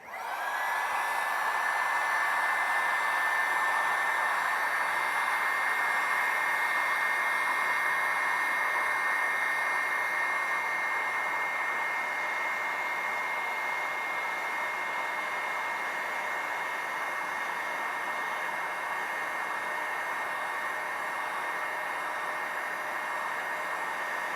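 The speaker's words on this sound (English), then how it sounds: "this heat gun has two settings, a high and a low. I'm going to turn it on high and make these marks disappear." A two-setting heat gun runs on its high setting, blowing a loud, steady airy roar with a faint whine that holds unchanged for the whole stretch, with no speech.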